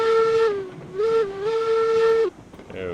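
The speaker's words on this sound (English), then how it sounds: "There we are, a little different whistle going on" A steam locomotive whistle in the railroad game RailRoads Online blows in a few long, tonal blasts with a slight dip in pitch between them, loud and near, cutting off abruptly near the end.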